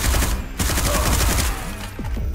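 A turret fires in the shooter video game SlavicPunk: Oldtimer, a rapid, continuous burst of loud gunshots rattling close by, with a slight drop in intensity near the end.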